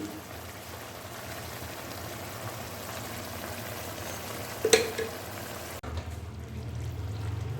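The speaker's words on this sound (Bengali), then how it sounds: "এর সাথে এবারে কষাবো আলু আর এঁচড়ের সাথে এইবারে দিয়ে দেব ঘি" Potatoes and jackfruit sauté in ghee with a steady close sizzle and frying hiss, broken by a brief stirring scrape partway through.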